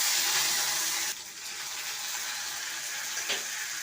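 Ground spice paste frying in hot oil with dried chillies, panch phoron and bay leaf, a loud hissing sizzle that drops abruptly after a second, then continues as a steady softer crackle.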